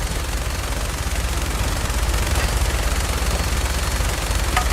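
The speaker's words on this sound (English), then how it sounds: "Aim your minigun all the way to the right or left" A minigun fires in Fallout 4 with the Sim Settlements 2 mod, a continuous loud buzzing rattle of rapid shots that holds steady for several seconds with a dense, noisy texture and no pauses.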